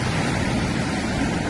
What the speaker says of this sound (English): Look and listen to those waves.